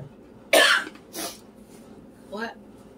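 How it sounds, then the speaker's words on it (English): Someone eating a taco salad coughs hard: two sharp, harsh coughs close together, then a shorter throat-clearing cough after a pause, all close and loud with no other talk. "I was just coughing and crying"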